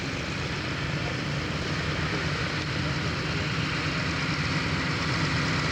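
A Grumman Wildcat propeller fighter at the Duxford Flying Legends air show gives a steady, broad engine drone that holds even and fairly loud for the whole stretch, with no voices over it.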